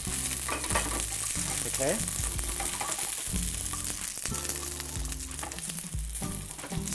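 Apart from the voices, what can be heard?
string beans sautéing in hot oil in a pan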